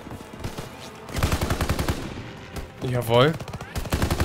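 Gunfire in the World War II shooter Call of Duty WWII, a rapid rattle of close, loud shots in two bursts with a short pause between, while someone talks briefly over the shooting.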